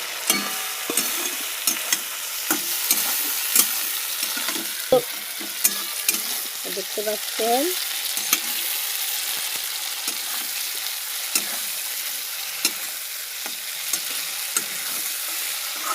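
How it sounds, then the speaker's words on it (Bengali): Bitter gourd sizzles steadily in hot fish oil while a utensil stirs and scrapes the pan in occasional knocks, with no talking. "দেখতে পাচ্ছেন উচ্ছে দিয়ে মাছের তেলে ভাজা হচ্ছে।"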